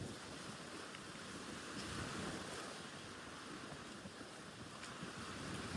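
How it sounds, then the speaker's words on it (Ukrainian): Strong wind roaring and buffeting against the microphone, continuous and loud with gusty surges, no voices. "Такий сильний вітер."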